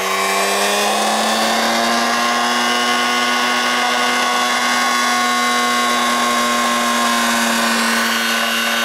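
A generator coil spins under electrical load with a loud, continuous whine whose pitch sags slightly as the RPM drops, steady and mechanical with no voices.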